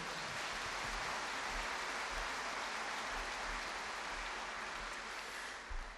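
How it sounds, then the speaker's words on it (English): Sustained applause from a seated audience at a seniors' gala cabaret show, a dense, steady wash of clapping at moderate level with no voices standing out, fading slightly near the end. "Let's have one final round of applause for John,"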